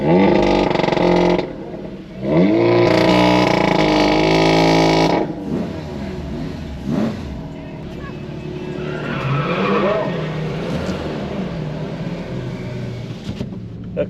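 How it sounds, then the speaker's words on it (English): A car launches in a drag race against an Audi S3 with a loud engine roar and screeching tires. The noise then drops to a lower engine hum as a voice speaks. "I lined up against a monster Audi S3 that runs a sub 10 seconds."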